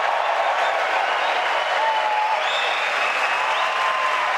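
A large crowd at a televised Republican presidential debate claps and cheers steadily, a dense, loud wash of applause that holds without a break.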